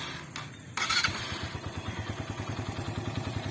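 A Suzuki GS 150 SE motorcycle is started after a short click and brief starter whir, its engine catching and settling into a steady, even idle putter nearby.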